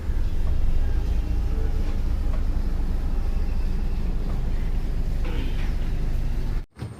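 A steady, loud engine rumble comes from an Alappuzha houseboat on the Kerala backwaters as it reverses and then moves ahead, droning continuously before cutting off abruptly near the end.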